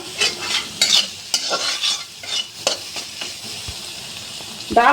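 Ground lentil paste frying in mustard oil crackles and sizzles in a pan, with repeated scraping stir strokes at an uneven rhythm. It is close and moderately loud.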